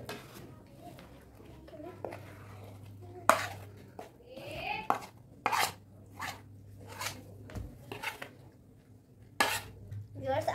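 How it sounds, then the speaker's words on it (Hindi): One kilo of scored chicken is mixed with masala in a bowl for chicken tikka, producing scattered clinks, wet squelches and scrapes of a utensil against the bowl, with some muffled talk between them. "अब मैं चिकन को मिक्स कर रही हूँ मसाले के साथ."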